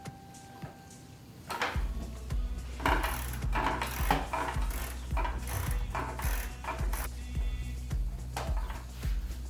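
A ratchet clicks steadily while loosening Torx bolts on the alternator of a BMW E46 M3, a continuous run of close, crisp metallic pawl ticks with occasional knocks and no talking.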